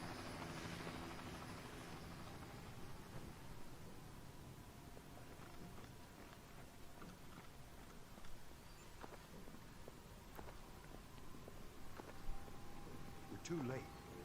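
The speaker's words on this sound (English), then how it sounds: "Fisher, inbound helicopter" A helicopter approaches in the stealth video game Splinter Cell Double Agent: a faint, steady rotor drone hangs in the background, with light scattered ticks and knocks over it.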